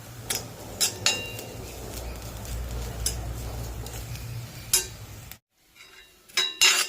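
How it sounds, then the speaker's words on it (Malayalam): Grated coconut being roasted in a pan for a vegetable curry, with a soft steady dry sizzle and repeated sharp scrapes and clinks of a spoon against the pan, fairly close, ending in a brief pause then more stirring clatter. "കറിക്ക് വേണ്ടി തേങ്ങ വറുത്തെടുക്കാം"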